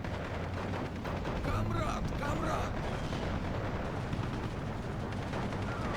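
Artillery fire in the World War II strategy game Steel Division 2, a low, continuous rumble of distant shelling and gunfire, with a voice talking over it.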